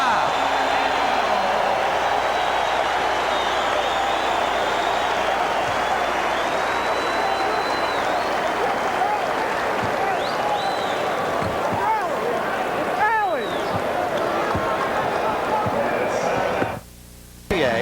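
A loud basketball arena crowd roars and cheers steadily during a Bulls vs. Nets timeout, heard close and sustained, with a commentator's voice running through it.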